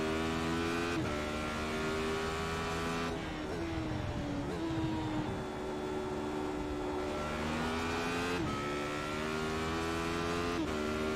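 Radical SR8 race car engine in iRacing while warming tyres: sustained high-revving engine note, rising and falling with repeated sharp gear changes and throttle lifts, loud and close, no speech.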